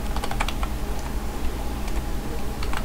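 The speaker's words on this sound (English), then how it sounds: "So we're going to type" Clicky keystrokes on a computer keyboard while a Python 2.7 script is typed in vim on Linux, arriving in short irregular bursts with brief pauses, close and fairly quiet over a steady low background hum, no talking.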